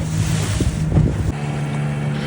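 A fishing boat running on two engines while crossing a river near Perumathura: a steady, loud, low engine drone with wind buffeting the microphone and water rushing, continuous throughout.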